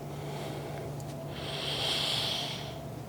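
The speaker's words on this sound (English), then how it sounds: "Breathing the whole entire time." Breathing during yoga hip stretches: a steady, close breath that swells into a louder, drawn-out exhale in the second half, heard alone without talk.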